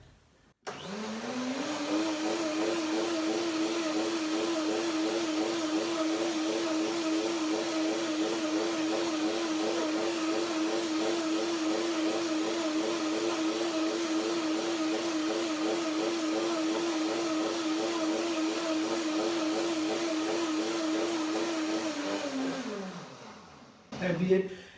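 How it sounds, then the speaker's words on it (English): A blender whirs steadily for over twenty seconds, whipping a chocolate cacao drink until creamy and foamy, its motor loud and close with a constant pitch, stopping abruptly at the end. "One more blender dance."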